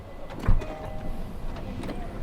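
Power sliding door on a KIA Carnival 11-seat van closing with a steady electric motor whir and a soft thud near the start, heard up close inside the cabin.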